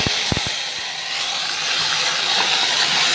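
Ginger hits a hot cooking pan for a fish-head mung dal, with a few sharp pops at first and then a loud, steady, close sizzling hiss.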